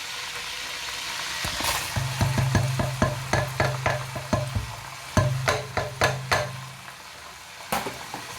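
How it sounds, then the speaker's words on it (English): Onions go into a hot sauté pan and sizzle steadily, with a run of sharp utensil clatters and scrapes from stirring over a low steady hum; no one speaks. "In that saute, I'm gonna add my onions in now."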